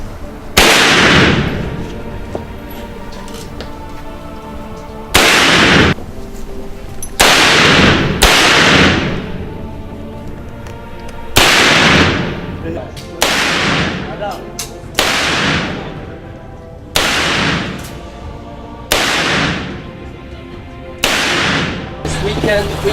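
Gunfire at a military shooting range, about a dozen loud single shots spaced a second or two apart, each a sharp crack trailing into a long echo, with faint voices between some shots.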